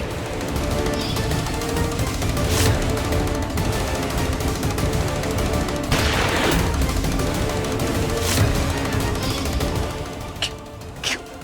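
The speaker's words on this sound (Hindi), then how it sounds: "फिर गोली चलने की आवाज" Rapid bursts of gunfire crackle continuously, dense repeated shots over a loud, busy background.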